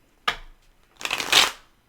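Two quick bursts of tarot cards being shuffled, a short riffle followed by a longer, louder flutter, close up and alone.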